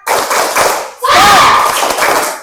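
A classroom of children in Indonesia performs a rhythmic spirit clap, the tepuk semangat, with loud, close group clapping in patterned beats mixed with energetic shouted chanting.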